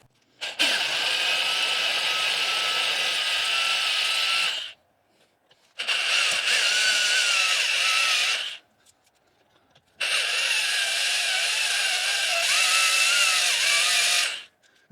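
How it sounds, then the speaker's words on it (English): A power drill with a 5/32 bit whirs loudly in three sustained bursts while drilling into a broken bolt to extract it, each running several seconds with short silent pauses between them, the pitch wavering slightly as it bores. "So that was a 5/32 drill."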